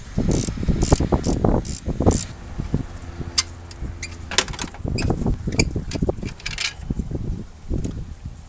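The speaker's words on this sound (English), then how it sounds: "Now the only thing holding this in is this 14 millimeter pivot bolt. We can go ahead and take that out the rest of the way." Ratchet wrench clicking as it backs out the 14 mm alternator pivot bolt on a 2001 Toyota Avalon, close and distinct, with bursts of rapid pawl clicks between pauses and a few metallic taps.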